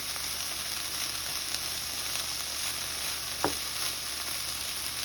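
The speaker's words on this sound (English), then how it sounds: "And then cooking this for 2 minutes, keeping the beef on the outside." Beef with green onions and garlic frying in a pan, a steady soft sizzle running throughout with one brief clink or scrape near the middle; no talking.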